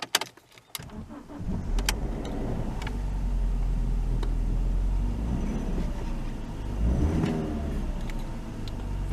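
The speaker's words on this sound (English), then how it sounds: "We also fitted a new battery, so the car can start now." A BMW 316ti with a newly fitted battery cranks and its engine catches after a brief moment of quiet, then settles into a steady, close idle with a short rise in revs near the end.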